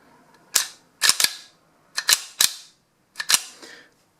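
The steel slide of a titanium 10mm high-capacity 1911 pistol with a 24-pound recoil spring is cycled by hand, making sharp metallic clacks, often in quick pairs, several times in a row, close up in a quiet room.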